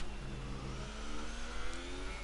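A racing car's engine in a racing video game, running on soft tyres through the first corner of the Spanish Grand Prix, drones as a faint, steady whine that rises slightly.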